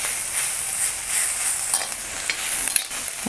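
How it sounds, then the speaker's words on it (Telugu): Ginger and turmeric fry in a pan with a loud, bright, continuous sizzle and a few soft stirring scrapes near the end, without any talking. "కొంచెం వేగనివ్వాలండి"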